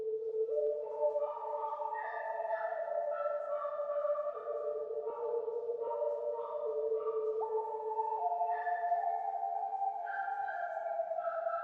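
Omnisphere Whistler's lead synth melody processed with the Portal future preset, shimmering layered tones gliding through sustained stepped notes with added pitched echoes, steady and alone.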